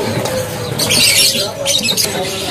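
Murai palangka (magpie robins) calling in a crowded bird shop, with bursts of squawking and chattering amid dense background bird noise and possible faint talk.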